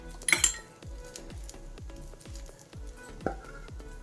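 A metal lid clatters onto a pan where an uttapam made from dosa batter with green chillies, curry leaves and coriander cooks in oil, followed by soft rhythmic thuds, a faint sizzle and a second light clink near the end.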